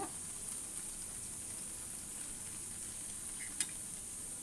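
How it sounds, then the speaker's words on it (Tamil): Bread frying in a pan over a medium flame gives a faint, steady sizzling hiss, with one small crackle near the end. "இதே இதில் வந்து நம்ம ப்ரெட்டை போட்டு வறுத்துக்கலாம்"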